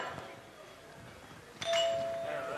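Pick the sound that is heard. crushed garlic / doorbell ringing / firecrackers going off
doorbell ringing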